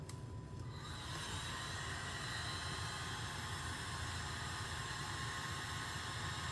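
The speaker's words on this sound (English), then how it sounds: "there's my blower right there. Okay, all right, so let's blow this out" A small handheld blower runs with a steady, continuous whoosh and hum, blowing out poured acrylic paint. It sits close and fairly even throughout, with no voices over it.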